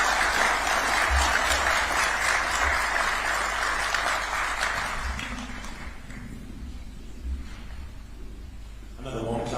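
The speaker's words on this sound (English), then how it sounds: "Another warm clap for His Excellency." An audience at the President's address to heads of diplomatic missions applauds warmly, a steady wash of clapping that gradually tapers off before a voice starts speaking at the very end.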